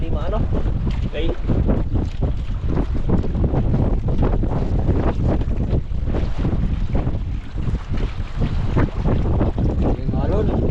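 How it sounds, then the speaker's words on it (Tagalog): Strong waves slam against a small boat in heavy wind and rain, a loud, continuous roar of splashing water and buffeting wind gusts close to the microphone. "Yung alon."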